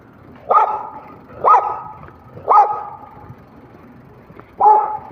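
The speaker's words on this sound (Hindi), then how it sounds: "और ये डॉग्स किसी ने रखे हुए हैं, जैसे ही उसने हमें देखा है भौंकना शुरू कर दिया है।" Guard dogs kept at a house on a village road in Italy bark at passersby, four sharp, loud barks spaced about a second apart, with a longer pause before the last.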